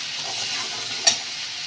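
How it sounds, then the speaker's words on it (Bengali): Spice paste seasoned with salt and turmeric being sautéed in a pan for a Bengali shankar fish kosha, giving a steady close sizzle with a single brief stirring scrape near the end. "ভালো করে এটাকে কষিয়ে নেব।"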